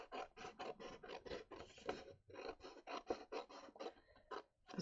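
Scissors or a blade cutting paper for a small handmade mini book, heard as a quiet, close run of short crisp snips in a quick uneven rhythm, with a couple of brief pauses between bursts.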